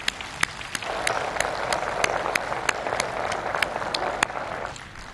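Audience applause at an awards ceremony, a steady wash of many hands clapping from a crowd, with a few sharper individual claps standing out throughout, fading toward the end.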